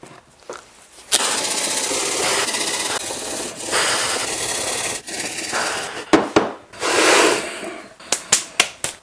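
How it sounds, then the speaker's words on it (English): Continuous rasping, scraping strokes of a file on fire brick, close and loud, ending in a few short separate rubs. "This stuff files real easily."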